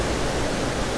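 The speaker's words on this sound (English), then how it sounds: "That's the waterfall I'm looking for." Waterfall at Craflwyn near Beddgelert in North Wales, a dense, steady rushing roar filling the whole second, loud and close with no other sounds.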